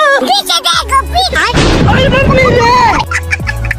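A loud cartoon bomb blast bursts out in the middle, a noisy boom that fades into crackle, with talking and sound effects before and after it.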